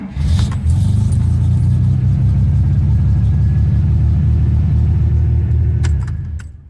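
A truck engine with a newly installed tachometer cranks and catches, then settles into a loud, steady low idle rumble that runs close and continuous for several seconds before trailing off near the end.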